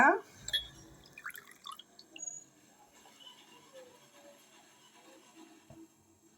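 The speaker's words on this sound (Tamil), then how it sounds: "தண்ணியில் நல்லா அலசிட்டு க்ளீனாக ஒரு கிண்ணத்தில் போட்டுக்கலாங்க" Hibiscus flowers are rinsed in water, giving a few quiet splashes and drips that are loudest at the start and then thin out into faint trickles, with some talking.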